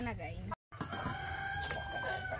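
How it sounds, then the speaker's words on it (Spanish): Hens cluck and crow up close in a short, loud stretch of farmyard sound, with a brief dropout near the start and steady clucking afterward. "Buena gallina."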